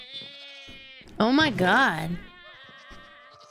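A goat in the Minecraft video game lets out a loud, wavering bleat lasting about a second, close up, with a person talking before and after it.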